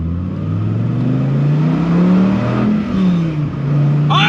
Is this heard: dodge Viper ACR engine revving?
yes